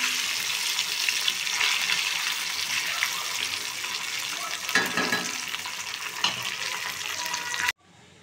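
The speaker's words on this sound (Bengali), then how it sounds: "শুধু এখন ঢেকে ঢেকে ভাজবো। মাছটা একটু নেড়ে দিচ্ছি।" Spiced fish fries in hot oil in a pan, giving a steady, loud sizzle throughout with a few brief stirring scrapes, ending abruptly near the close.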